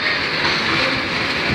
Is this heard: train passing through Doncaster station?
yes